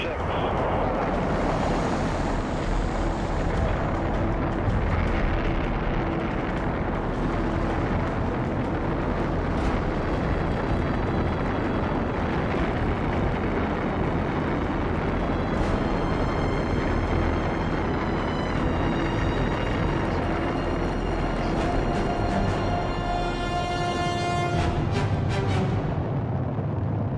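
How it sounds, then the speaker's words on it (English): A Saturn V rocket's engines ignite at launch and it lifts off, a continuous heavy roar that stays loud and steady throughout, with faint radio voices and tones mixed in. "Ignition sequence start."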